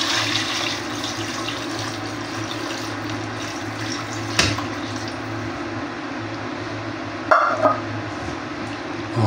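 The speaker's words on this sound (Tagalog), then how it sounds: "Ngayon, lalagyan na ho natin siya ng ating sabaw." Broth pours steadily into a pot of chicken rib sinigang, a continuous liquid rush with a couple of brief clanks partway through, close and fairly loud.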